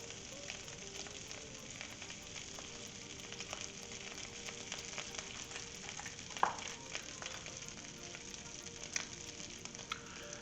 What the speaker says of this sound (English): I am just going to take a handful of my shredded lamb and start warming this up